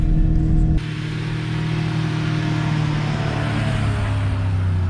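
A vehicle drives along a rough woodland road, its engine a steady, continuous rumble with road noise close by, no voices.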